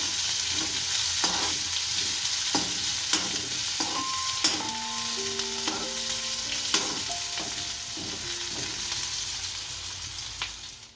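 Onions sizzle continuously in hot oil while a utensil scrapes and stirs the pan in intermittent strokes; no talking.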